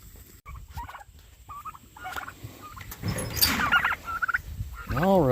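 Farm turkeys gobble in several rapid, warbling bursts, some near and loud, others farther off, with a few scattered clucks between the calls.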